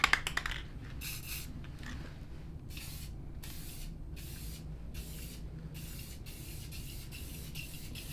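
A spray can sprays gloss black paint onto a shifter kart grill in a series of short, even hissing bursts separated by brief pauses, close and steady, with no talking.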